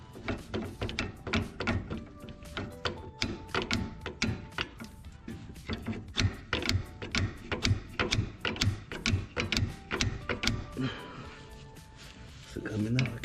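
A wrench ratchets on a bolt of the alternator on a Nissan 300ZX, rapid repeated clicking bursts in an uneven rhythm, close and fairly loud, with a voice heard now and then.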